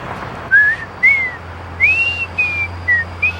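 A person whistles a short tune in six clear, bright notes, each sliding upward, in quick bursts with brief gaps, close and alone.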